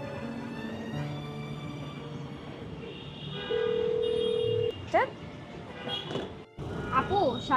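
An unanswered phone call produces a single steady ringback tone of about a second midway through, heard faintly over a quiet indoor drama scene with scattered background sounds.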